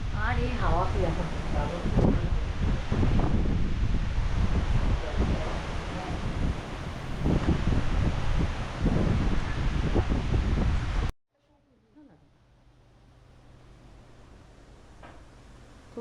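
A strong wind roars and buffets the microphone in a riverside hotel room, loud and gusty for most of the stretch, then suddenly drops to a faint hush. Voices talk over the wind.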